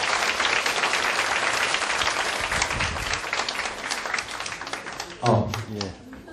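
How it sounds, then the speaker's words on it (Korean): An audience applauds to welcome a guest lecturer at a talk, with dense clapping filling the room before thinning out. A voice then speaks near the end. "따뜻한 박수로 모시겠습니다."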